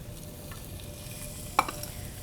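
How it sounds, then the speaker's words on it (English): Julienned white onion sizzles quietly in whole butter in a pan, a soft, steady frying hiss with one sharp utensil clink partway through. "to the butter, we're gonna add some julienned white onion"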